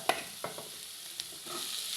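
Greens being stirred into a pan of fried onion, garlic and coriander leaves, with a low sizzle and a few scraping knocks of a spoon, faint and brief, no voices.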